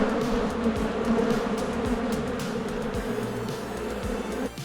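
Honey bees swarm thickly around an open hive during a beekeeper's inspection, a dense, steady droning buzz close by with individual bees swooping past in rising and falling pitches throughout.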